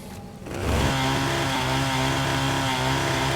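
A chainsaw in the video game Fallout: New Vegas revs up after a short start and then runs as a loud, steady, buzzing engine drone.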